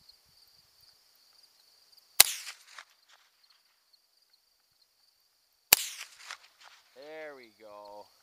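Two sharp .22 LR rifle shots crack a few seconds apart against a quiet outdoor hiss, each followed by a brief echo, with a person speaking afterward.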